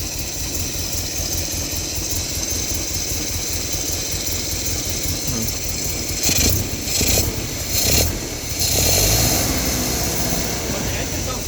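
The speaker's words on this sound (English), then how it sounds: "the engine sounds good" A 1970 Datsun Roadster SPL311 with its top off idles steadily, a constant, fairly loud engine drone that holds throughout, with a few brief louder swells near the end and people talking nearby.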